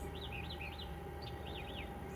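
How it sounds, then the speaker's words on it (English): Faint, high chirps from a small bird repeat in quick bursts over a steady outdoor hum, distant and light. "What I do want you to hear is the birds."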